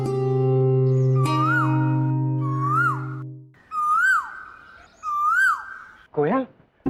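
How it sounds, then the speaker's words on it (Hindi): A koel calling inside a palace, several rising whistled calls repeating over a sustained musical drone, fairly loud and close. "इस महल में कोयल भी है?"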